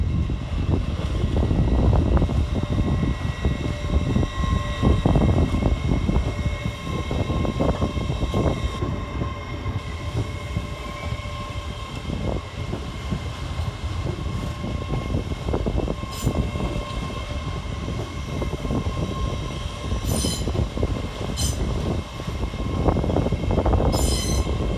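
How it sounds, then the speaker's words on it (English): LNER Azuma class 801 unit 801216 departs Bowes Park station on the East Coast Main Line, its wheels rumbling and clattering with several high squeals of wheels on rail, near and steady throughout. "we see the departure of 801216, working 3 Delta 12 back to London King's Cross"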